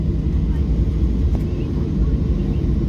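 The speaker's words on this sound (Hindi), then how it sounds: "तो ये देखिए हमारी फ़्लाइट चल पड़ी है" A Boeing 727 jet airliner rolls along the runway, its engine roar loud, steady and close, filling the whole stretch as heard from inside the cabin.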